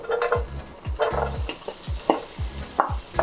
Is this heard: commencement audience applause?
no